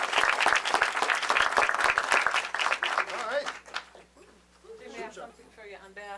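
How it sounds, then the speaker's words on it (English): Audience applause for graduates at a Side Street to Main Street graduation ceremony: dense clapping for about three seconds, then fading out as voices start speaking. "please join me in a great round of applause for the accomplishment of our graduates"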